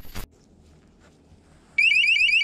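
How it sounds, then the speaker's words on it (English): After a short thump and a quiet pause, a beam-break alarm sensor bursts into a loud, rapidly warbling electronic siren that continues steadily to the end. "we've got this alarm. Basically, we activate it, and if anything breaks that beam, it's going to make a loud sound."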